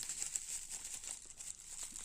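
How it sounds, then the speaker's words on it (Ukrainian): Plastic packaging bags and bubble wrap from an AliExpress parcel are unwrapped up close, giving continuous soft crinkling and rustling with small crackles throughout. "Пакет раз, пакет два, пакет три, пупирка."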